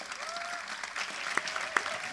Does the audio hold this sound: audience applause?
yes